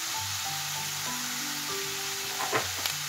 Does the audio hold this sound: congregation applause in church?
no